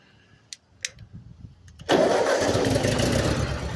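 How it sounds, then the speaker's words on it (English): An old tractor engine cranks over after a few faint clicks, then catches and settles into a loud, steady running roar close by. "The old tractor starts pretty good."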